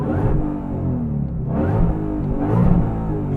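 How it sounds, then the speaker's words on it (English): A 2020 Ford Shelby GT500 engine idles with a deep, throaty rumble, rising in two brief revs before settling back. "let's go ahead and fire up this beast using the engine start button right here"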